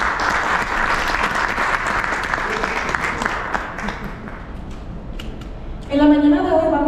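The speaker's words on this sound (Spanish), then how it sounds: "Un aplauso para él," Applause for Mr. Segura at a press conference, sustained crowd clapping that gradually dies down, after which a voice begins speaking.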